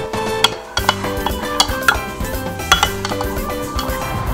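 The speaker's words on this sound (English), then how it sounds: "Now you stir it and set it aside." A lime juice, salt, pepper and extra virgin olive oil dressing being stirred gives repeated close clinks and taps of a utensil against a bowl in an uneven rhythm.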